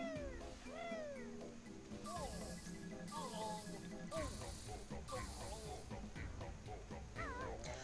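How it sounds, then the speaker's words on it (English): A cat in the video game Banjo-Tooie meows repeatedly in rising and falling cries, broken by several loud hissing bursts over a low game background. "That cat got awfully close to Hag right there."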